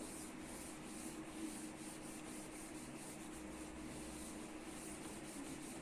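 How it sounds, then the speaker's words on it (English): A classroom board being rubbed out with an eraser, a continuous even scrubbing and rubbing texture, faint and unbroken for several seconds, with no voices. "Let me rub out the board."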